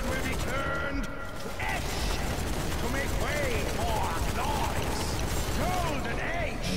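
Rapid, dense gunfire against the Hell Machine in the zombie shooter Zombie Army 4, a steady barrage layered with metallic clanks and game noise that stays loud throughout.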